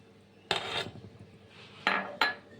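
Cashew paste and milk being stirred in a bowl with a spoon, a few sharp metallic clinks and scrapes against the bowl, spaced apart with quiet pauses between, close and distinct.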